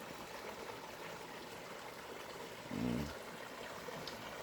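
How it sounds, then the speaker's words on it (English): Water of the Magaliesberg River flows in a steady, soft broadband rush, with a brief louder swell near the middle and no voices. "This is the Magaliesberg River."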